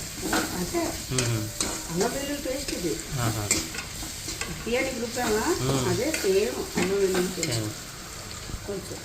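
Ginger garlic paste with masala paste frying and being stirred in a pan for mutton keema curry, a steady close sizzle with repeated scraping stirs throughout.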